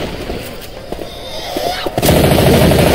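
Gunfire in Left 4 Dead 2 on the Dead Center map, with scattered sharp shots and then a loud sustained burst in the final second.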